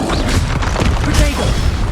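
A Bombarda spell explodes in Hogwarts Legacy, a loud booming crash with dense low rumble and clattering debris, layered with other spell effects in a busy fight.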